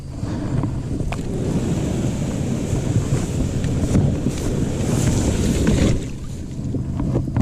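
A fishing boat runs across open water, its steady low rumble and hull noise blending with strong wind buffeting the microphone for several seconds before easing slightly near the end.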